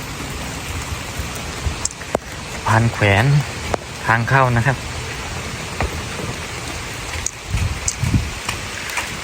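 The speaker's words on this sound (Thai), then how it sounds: "บรรยากาศฝนตก" Rain falls steadily along a forest trail to Kong Kaeo waterfall in Khao Yai, near a suspension bridge over the Lam Takhong stream, a soft continuous patter with someone talking over it in bursts.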